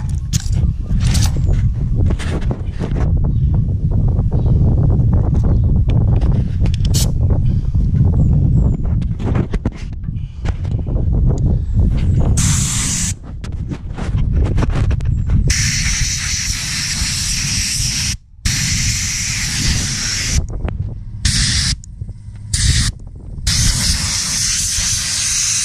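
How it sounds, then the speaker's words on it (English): An air blower blows rust dust off a surface after needle scaling, giving a loud, continuous hissing rush that cuts out and restarts in short bursts toward the end. "Now I'm going to put the blower on there."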